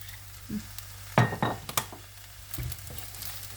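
Crab stick fried rice being stir-fried in a pan, with a low sizzle under a few sharp scrapes and clinks of the utensil against the pan, spaced irregularly.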